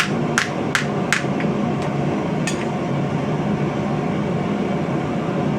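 Several sharp metallic strikes of a hammer on steel plate over an anvil ring out over a steady loud background hum, a few quick blows then a pause and one more hit.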